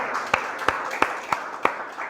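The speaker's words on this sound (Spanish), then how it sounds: "le da un aplauso al Señor." Sparse clapping from a church congregation, a few distinct sharp claps spaced at a steady rhythm over a quiet room tone, fairly soft and not a full ovation.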